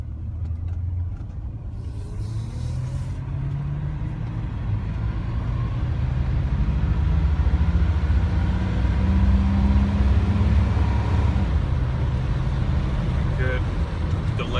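A 1985 Chevy C10 pickup accelerates at full throttle, its engine a low rumbling drone that builds and holds as the automatic transmission shifts, with someone talking over it.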